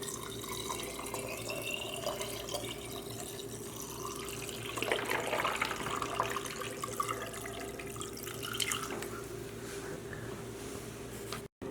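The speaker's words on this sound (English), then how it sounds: "Now with my blended brine, I'll pour it into the cavity." Salted, blended brine poured into the cavity of a raw chicken for slow roasting, a steady trickling and splashing of liquid that swells in the middle of the pour against a low background hum.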